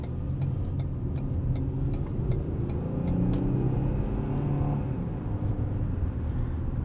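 A 2016 Ford Taurus SHO with a 3.5 liter V6 and 6-speed automatic accelerates, its engine a steady, moderately loud drone heard from inside the cabin over light ticking, with no talk.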